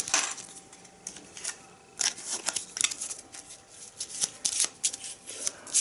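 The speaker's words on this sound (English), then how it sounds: "shuffle it real quick" A deck of Arkham Horror exhibit item cards is shuffled by hand, giving close, crisp papery riffles in uneven bursts with short pauses between them.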